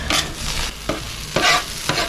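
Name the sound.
meat and vegetables sizzling on a griddle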